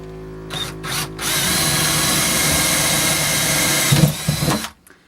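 Power drill driving small screws into a woodstove install inside a school bus conversion whirs in one sustained burst of a few seconds, loud and close, with a brief start and stop at either end.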